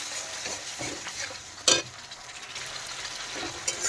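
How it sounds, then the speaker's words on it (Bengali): A spice paste fried with beaten sour yogurt for a vegetarian fish curry, stirred in a pan with a continuous sizzle, soft scraping strokes and one sharp clatter of the spoon, close by with no talk. "টক দই দিয়ে আরেকটু নেড়ে চেড়ে ভালো করে কষিয়ে নেব"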